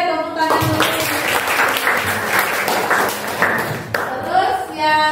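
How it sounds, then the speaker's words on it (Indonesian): A class of students applauds during a lesson, dense steady clapping throughout, close and loud, with voices mixed in. "Oke, tepuk tangan dulu."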